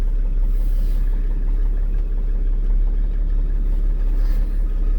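A 1995 Mercedes-Benz E300 diesel engine running steadily, with a loud, continuous low rumble and a constant vibrating drone throughout and no voices.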